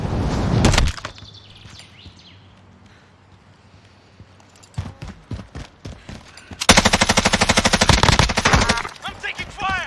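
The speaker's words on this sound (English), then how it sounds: "I'm taking fire." Gunfire in a shooter video game: a loud burst at the start, a quieter stretch with scattered shots, then sustained rapid automatic fire near the end, with occasional voices.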